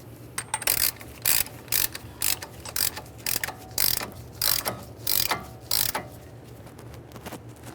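A hand ratchet tightens a nut on the front lower control arm of a 2013–2020 Ford Fusion 2.0L I4, loud rhythmic bursts of rapid clicking in about a dozen strokes with short pauses, close up.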